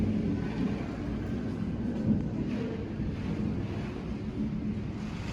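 Strong thunderstorm wind roaring steadily outside an apartment, a dense low rumbling rush with slight gusting swells, continuous and moderately loud, no voices.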